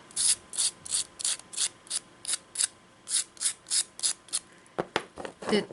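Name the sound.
sanding air dry clay earrings with sandpaper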